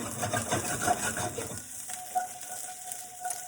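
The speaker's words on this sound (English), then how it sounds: "Ooh, you hear that sizzle?" Asparagus sizzles in a hot pan with a steady crackling hiss, briefly stirred at first, then settling into a quieter continuous sizzle.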